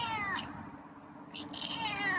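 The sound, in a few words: cat meowing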